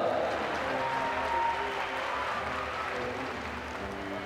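A crowd cheers and applauds steadily at a para swimming men's 400m freestyle S8 race, a dense, even wash of clapping and voices heard from a distance with no pauses.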